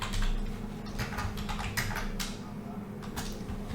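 Typing a slide title on a computer keyboard, with quick, close bursts of key clicks in an irregular rhythm and no voice over them.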